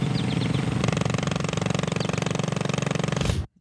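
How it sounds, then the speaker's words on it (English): A motorbike engine runs close up with a rapid, pulsing throb that grows busier partway through, then stops abruptly. "Just the motorbike sounds."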